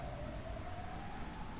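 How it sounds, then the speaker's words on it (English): A Hungarian ambulance siren wails outside near a residential area by hospitals, a steady rising tone held fairly faint and distant under constant background noise, with no talking. "The ambulance is here."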